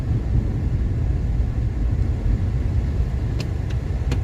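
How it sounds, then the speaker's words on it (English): Evening road traffic rolls past in a constant, loud low rumble of engines and tires, with a few faint clicks near the end and no talk. "But it's a little bit traffic here"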